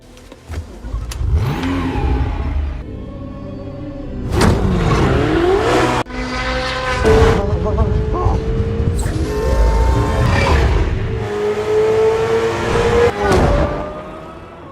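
A sports car engine on a test drive revs and accelerates in several loud surges, rising in pitch with each gear, with brief pauses between bursts.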